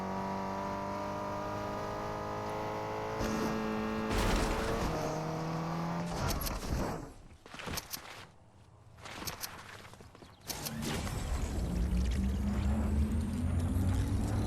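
Car driving in Fortnite, a loud sustained engine drone with shifting pitch, breaking off midway into rattles and thumps before the engine roars back up.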